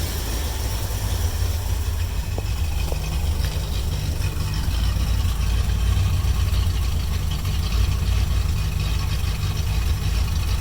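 A 1972 Mercury Comet engine idles with its idle turned down, slightly breaking up, making a continuous close low rumble with faint unevenness and no talk over it.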